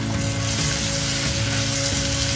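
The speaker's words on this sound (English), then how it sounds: "you're gonna let this cook with the carrots and the onions" Carrots and onions fry with curry paste in a pan for Thai chicken curry, giving a steady, dense sizzle that stays loud and even throughout, with no talking.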